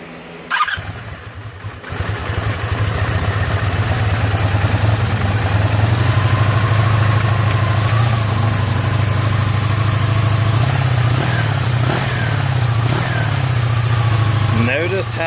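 A V4 motorcycle engine, its carburetors freshly cleaned, cranks and catches, then settles into a loud, steady, close idle that runs the whole time with a few small revs.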